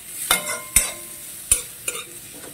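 Mixed vegetables are tossed in a pan with a pinch of salt for a gravy, producing sharp metallic clacks and scraping stirs at an uneven rhythm over a light sizzle, close and fairly loud.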